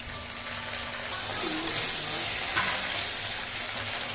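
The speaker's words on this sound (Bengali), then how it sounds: "এরপর আমরা একটু নাড়ব" Chicken lollipop with capsicum, salt, red chili sauce and tomato sauce sizzles steadily in a pan, with soft scraping of stirring and a few small clacks over the continuous frying hiss.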